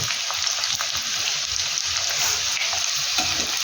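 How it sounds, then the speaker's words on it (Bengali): Chilli rolls fry lightly in a pan with a steady, close sizzle of hot oil that holds even and unbroken throughout. "এগুলো কিন্তু একদম হালকা আগে ভাজতে হবে।"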